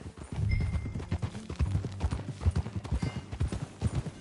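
Steady clip-clop of horse hooves trotting at an even rhythm in Red Dead Redemption 2, close and clear, with a low ambient hum underneath.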